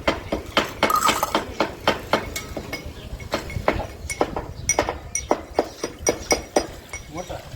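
A metal pot holding milk is handled in a village home, giving a string of sharp metallic clinks and knocks, close and fairly steady, while people talk.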